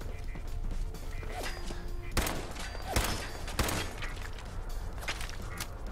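Gunfire in the Fallout 4 video game: a dense rattle of rapid shots with several louder, sharper bangs cutting through, a continuous firefight over six seconds.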